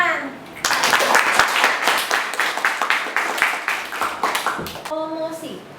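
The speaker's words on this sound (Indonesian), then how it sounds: "Tepuk tangan." A classroom group of students claps together, a dense burst of applause that is loud and close, lasting several seconds before it fades, with a teacher's voice speaking Indonesian at the start and end.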